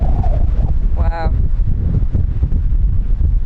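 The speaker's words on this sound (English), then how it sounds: "let's go back inside because it's so windy." Strong wind buffets the microphone outdoors at a remote coastal campervan parking spot, with heavy low rumbling gusts throughout while a person speaks briefly.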